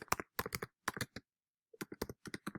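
Keys clack on a computer keyboard in quick bursts of separate taps, with a short pause midway, close and fairly quiet.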